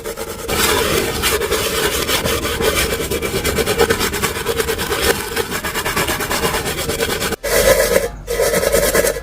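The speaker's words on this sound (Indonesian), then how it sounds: "kita amplas atau kita gesek-gesek dengan menggunakan sabut tembaga ini" Steady rough scrubbing of a hard surface with a copper wire scourer, continuous rasping strokes, close and loud, with a brief pause near the end.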